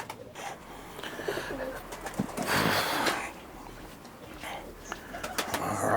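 Birmingham Roller pigeons coo softly inside their loft, with low repeated murmuring calls, light rustling and a brief fluttering burst near the middle.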